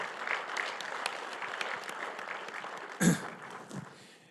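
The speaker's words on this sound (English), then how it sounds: "Chairwoman Mallory, if you'd please give her a round of applause." Audience applause at the White House Tribal Nations Summit, a steady, rather faint patter of many hands clapping. It includes one louder nearby thump or cough partway through before tapering off.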